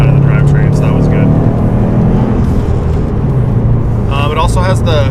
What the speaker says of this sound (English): It also has the COBB intake, which is why you can hear the bypass valve and why you can hear the intake as prominently as you can.